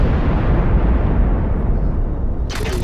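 Heavy artillery cruiser fire in the strategy game Ashes of the Singularity, a sustained loud rumbling barrage of booms with a brighter crackle near the end.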